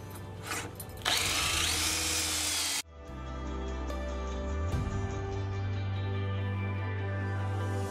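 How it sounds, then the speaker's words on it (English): A power drill bores into wood while an antique dresser is converted into a vanity, its steady whine running loud and close, cutting out briefly and then restarting with a lower, even drone. "And then commence to drilling."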